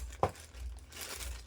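Crinkling of plastic packaging while a TikTok order is unboxed, a brief sharp rustle followed by soft scattered crackles, close and quiet with no talk.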